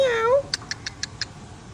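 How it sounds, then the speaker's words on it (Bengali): A cat at an emergency veterinary clinic gives one clear, drawn-out meow up close, followed by a short run of faint, evenly spaced clicks or taps. "ওই যে ওই বিড়ালটারে আটকাইছে, পালাবে কোথায়?"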